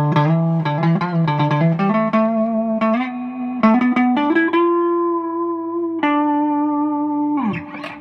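Guitar notes and chords played through a Carr Vincent amplifier, ringing out with a wash of reverb and slight distortion, ending on a sustained note and a strum.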